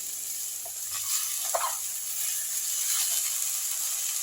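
Washed drumstick flowers dropped into a hot wok (kadai) for a traditional Bengali chorchori, giving a steady sizzle with a few stirring scrapes and soft clatters near the start; no talking.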